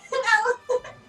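A cat gives two close, plaintive meows, a longer drawn-out cry followed by a short second one, loud and with nothing else around it.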